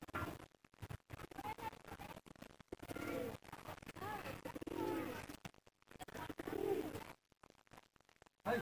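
Madras and Giribaz pigeons cooing in short repeated bursts at close range, broken by scratching and handling noises, with a voice heard faintly at times.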